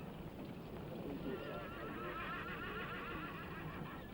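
A horse whinnies, a long wavering neigh over a busy background of hooves and murmuring voices.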